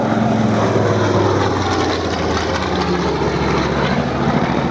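A Grumman Wildcat fighter flying at the Duxford air show, giving a loud, sustained piston-engine and propeller roar that holds steady throughout with no talking.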